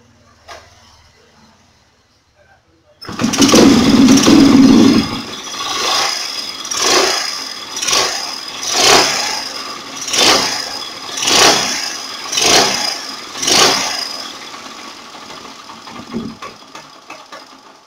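Motorcycle engine revved during an RPM test after fitting a speedometer, heard as a loud opening burst followed by about eight rhythmic rising-and-falling revs, each swelling and fading, close to the listener with no speech.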